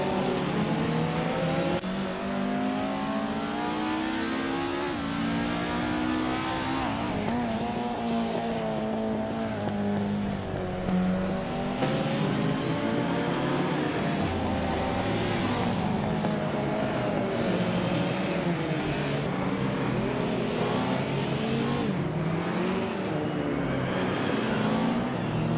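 Toyota Corolla race car engines in the middle of the pack during a video game race, loud sustained engine tones that rise and fall in pitch as the cars rev and shift, continuous throughout with no talk.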